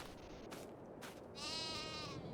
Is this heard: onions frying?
no